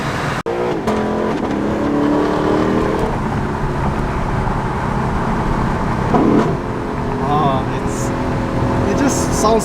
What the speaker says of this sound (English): It just sounds so good with the exhaust.